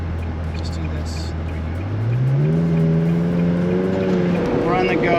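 A Ferrari engine runs and revs as the car pulls away, a low steady drone rising in pitch with acceleration and holding a strong harmonic tone, close and loud inside the cabin, with a person speaking over it.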